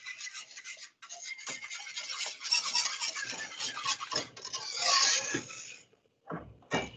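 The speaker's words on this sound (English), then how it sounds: "Give it a little whisk." Whisk scraping quickly around a bowl of sauce, a bright rhythmic metallic rasp that rises and falls for several seconds, then stops briefly before a couple of final strokes.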